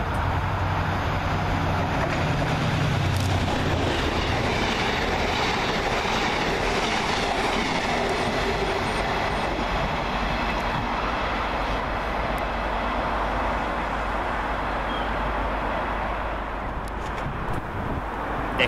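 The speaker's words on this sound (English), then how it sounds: "Showing no signs of stopping and powering through the station, 68025 pulls an over free set" British Rail class 68 locomotive 68025 powering through Broad Green station without stopping, hauling a passenger set from Scarborough to Liverpool Lime Street; a loud, sustained diesel roar with rumbling wheels and rail clatter that fills the whole stretch.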